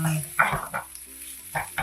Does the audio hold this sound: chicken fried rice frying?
yes